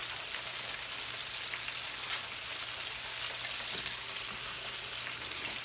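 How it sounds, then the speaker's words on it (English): Pork finger ribs frying in a fryer, giving a constant dense crackle and hiss of hot oil, even and close, with faint low hum beneath and no voices. "And I got them here just in the fryer here, y'all. Yeah. So I'm gonna continuously fry."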